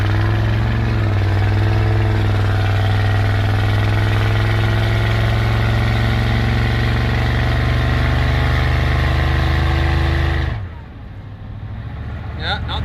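Supercharged diesel truck engine, a Superstroke with a loud blower, runs steadily at a deep, close, droning idle for about ten seconds before cutting off abruptly, leaving a faint quieter tail.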